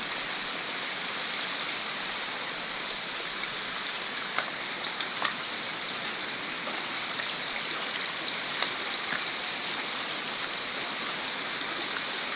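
Water rushes continuously in a steady broadband hiss, like a flowing stream, with occasional small splashes and drips nearby.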